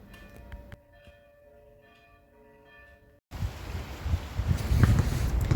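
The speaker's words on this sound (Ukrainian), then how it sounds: "Жити в селі в Нідерландах це вранці чути дзвони церкви." Church bells ring with sustained, resonant tones for a few seconds in a village in the Netherlands, then give way abruptly to louder rustling, windy outdoor noise.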